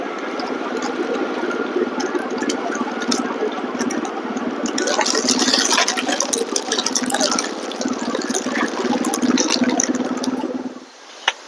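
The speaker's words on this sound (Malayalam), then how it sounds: "അപ്പൊ ഇവിടെ നോക്കിയാൽ നമുക്ക് അതിരപ്പള്ളി വെള്ളച്ചാട്ടമൊക്കെ കാണാം." Water rushes in a steady, dense roar from the Athirappilly waterfall area on a rainy day, constant and fairly loud throughout before dropping off briefly at the very end.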